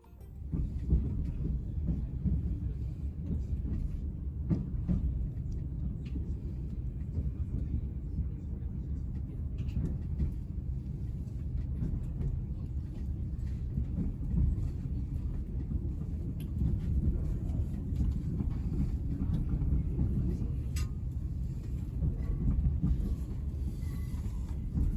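A train pulls into Newcastle station after crossing the Tyne, giving a steady, loud low rumble of wheels and running gear that continues without break throughout.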